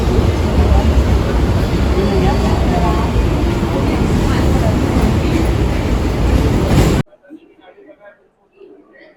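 Loud, continuous rumble and clatter of a train amid a noisy, crowded Dadar railway station, a main junction, then an abrupt drop to quiet murmuring near the end.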